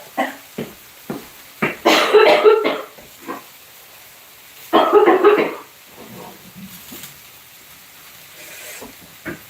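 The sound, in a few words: cough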